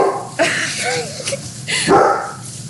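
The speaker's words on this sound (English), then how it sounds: "the dogs got very upset" Indoor dogs barking and yipping in short, sharp bursts close by, with a few whiny, rising yelps between them and no voices underneath.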